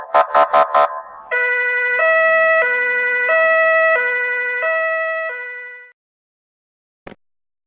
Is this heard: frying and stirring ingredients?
no